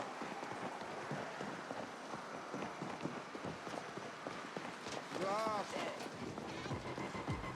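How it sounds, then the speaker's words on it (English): Rapid footsteps patter through a busy soundscape in the video game The Ascent, with steady rain-like noise, a brief tonal chirp, and other effects layered underneath. "You can hear people's footsteps."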